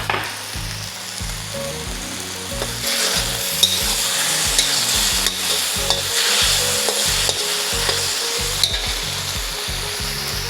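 Chicken chow mein with soy sauce sizzles in a wok as a spatula scrapes and tosses it in a brisk, steady rhythm, loud and close with no voices.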